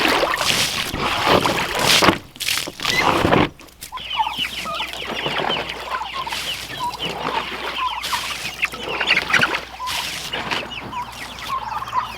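A flock of meat chickens clucks and murmurs continuously, many birds close by, after a heavy overnight rain, with a rushing, wind-like noise at the start before the clucking takes over.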